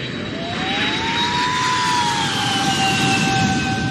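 A jet airplane roars steadily as it comes in to land, with a rising then falling engine whine over a loud continuous rumble, set within a song.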